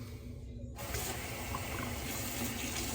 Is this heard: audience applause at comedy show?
no